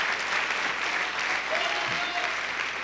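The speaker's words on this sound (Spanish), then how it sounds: "dale un aplauso fuerte al Señor si usted puede" A church congregation claps for the Lord during a Spanish-language worship service, a steady broadband wash of applause filling the room for a few seconds with no clear voices over it.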